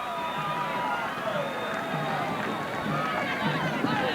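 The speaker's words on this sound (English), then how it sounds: "And the crowd loves it." A large crowd roars and cheers at a 1984 high school football semifinal between Matawan and Wall, a dense, sustained wall of voices from the stands holding steady throughout.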